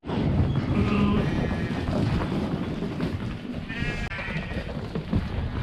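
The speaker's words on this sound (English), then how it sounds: "3 sheep with their heads stuck." Sheep with their heads stuck on a farm, bleating several times in wavering cries over a busy, steady background, with a couple of loud calls near the start and again later.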